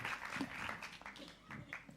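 Audience applause for the young presenters at a talk on recruiting IT talent, a steady patter of many hands clapping across the whole stretch at moderate distance, with faint voices mixed in.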